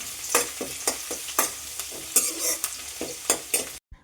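Green chillies and ginger being stirred into beef roast frying in a pan, with a steady sizzle under repeated scraping stir strokes of a spoon, close and fairly loud, ending abruptly.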